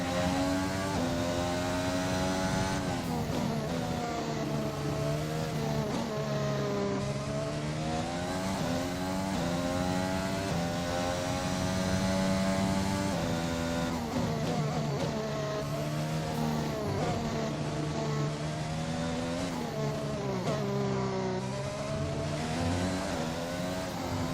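Formula 1 car engine from the F1 2021 video game revving hard on track, a continuous high-pitched whine rising and falling through repeated gear changes, loud and unbroken.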